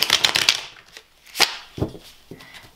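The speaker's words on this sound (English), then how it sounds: "I want to do the old casino shuffle." A rapid casino-style riffle shuffle of tarot cards, a fast fluttering burst, then a few sharper card snaps and taps, close and fairly loud.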